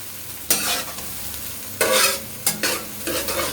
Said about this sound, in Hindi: चम्मच जो है वो साथ साथ हम हिलाते रहेंगे। फ्लेम हमारा हाई है।